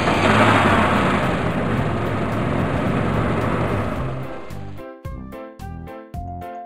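A truck engine roars steadily at close range, then gives way to a series of sharp, evenly spaced tonal bursts near the end, with no talking.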